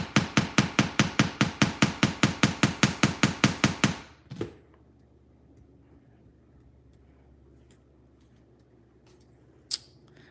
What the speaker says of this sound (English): I plan to hammer the whole thing, so I'm gonna hammer on top of the tape and see what happens.